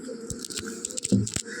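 A child eats rice gruel with papadam, making small close-up crunching bites and soft wet chewing sounds in short irregular bursts, with no talk.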